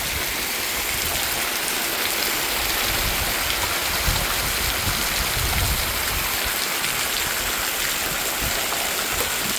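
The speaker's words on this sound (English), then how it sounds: "Ooh, when it rains, it comes down." Heavy rain pours down steadily on a house under construction with new siding, a dense, even hiss of water with no letup and no voices.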